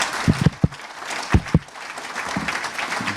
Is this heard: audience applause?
yes